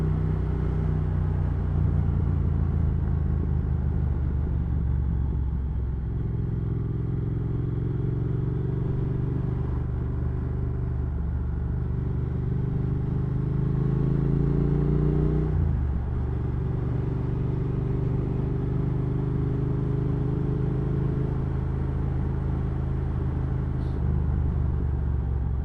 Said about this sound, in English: Really nice just riding around here on the bike.